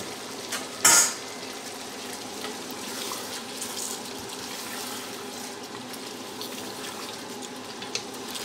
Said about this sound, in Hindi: तो यहाँ मैं अरबी डाल दूँगी, साथ अरबी को भी भूनेंगे।